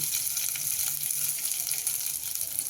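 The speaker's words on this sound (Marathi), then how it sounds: "चांगल्या अशा परतून घ्यायच्या आपल्याला मिरच्यामध्ये. त्याला टाकायचे थोडेसे आपल्याला तीळ" Green chillies and sesame seeds sauté in a pan for a sweet-sour green chilli thecha. A steady, close sizzle runs throughout with faint stirring, and no voices.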